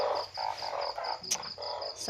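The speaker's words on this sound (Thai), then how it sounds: "นั่นกบ" Frogs croak steadily in a rapid pulsing chorus at night in Laos or Thailand, a close, dense rhythm with a thin high insect-like whine running underneath and no talking.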